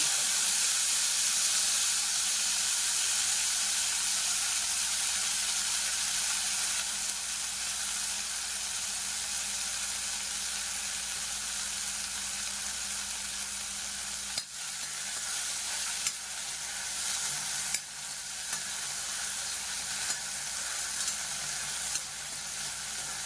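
Coriander and mint leaves fry in a pan for tomato pachadi, a continuous close hiss and sizzle with a few faint stirring knocks, steady and unbroken, no one speaking.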